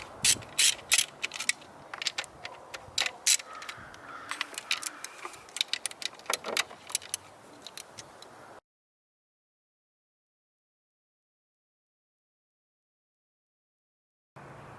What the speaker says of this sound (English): They will all come out with an 8mm socket.